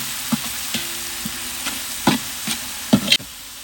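Ginger garlic paste frying in oil for village-style Hosakote dam biryani, a steady sizzle broken by several sharp spoon scrapes and taps against the pan, close with no voices.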